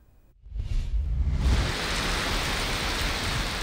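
Heavy monsoon rain falls in a dense, steady roar that builds up within the first half second and then holds loud and unbroken, with no voices.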